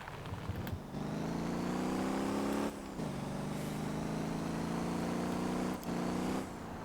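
A car in the Motor Town driving game slides with oversteer, its engine droning steadily with harmonic tones that briefly dip and recover twice, with no speech.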